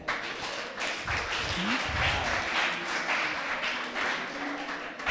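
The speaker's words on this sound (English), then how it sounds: "So please clap for yourselves." Session participants at a sustainable tourism event applaud, a dense, steady wash of many hands clapping at once that holds evenly for about five seconds in a room, with no talk over it.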